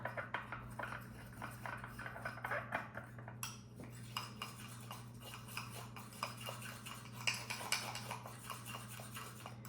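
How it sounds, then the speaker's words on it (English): A fork clinks and scrapes against a bowl while mixing powdered sugar with lemon in a home kitchen, with quiet, steady tapping strokes repeating close by. "I don't know why I'm mixing it up with the fork."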